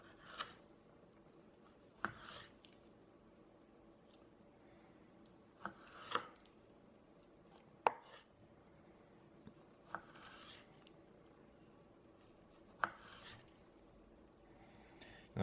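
A knife slices down through beef for jerky on a cutting board, sharp isolated chops spaced a couple of seconds apart against a quiet room.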